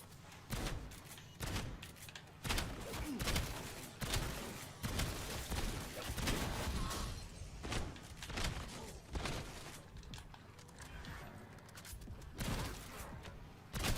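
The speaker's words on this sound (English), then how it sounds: "this shotgun's actually pretty good once you get a little oomph to it" Shotgun fire in a Call of Duty Black Ops 7 Zombies match: loud, booming blasts repeat at irregular intervals over a busy game backdrop, with some quieter pauses between shots.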